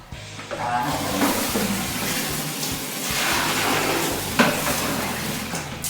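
Water poured into a hot frying pan, giving a loud, steady sizzle and bubbling hiss that swells and surges for several seconds close up, with a few splashy bursts and no talking.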